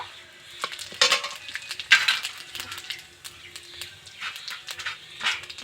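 Whole garam masala, cumin seeds, bay leaves and dried red chillies crackle and sizzle in hot oil, with irregular spitting pops and stirring clatter close by over a low background hum, no talking.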